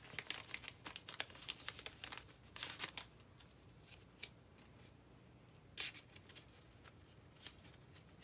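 A Ziploc plastic bag and care card that come with a Marc Jacobs black leather mini tote are handled, producing soft, quiet plastic crinkles in scattered bursts and gentle rustling.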